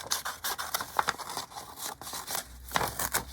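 Scissors cut a paper stencil with repeated quick snips and scraping cuts, close and fairly crisp, in an irregular rhythm.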